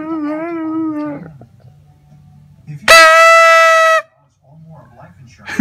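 A Siberian husky howls: one drawn-out wavering howl, then after a pause a louder, sustained higher howl lasting about a second, with quiet murmurs between.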